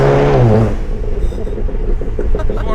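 A tuned Volkswagen Golf R Mk7.5 exhaust in an underpass revs loudly at first, then settles into a deep, rumbling, crackling idle that echoes close by.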